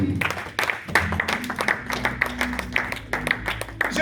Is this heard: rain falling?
no